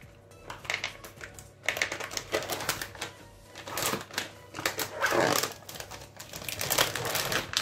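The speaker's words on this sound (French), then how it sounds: "le jambon que je découpe en petits carrés" A knife chops ham into small squares on a board, giving quick, close tapping cuts in irregular bursts with soft packaging rustle mixed in.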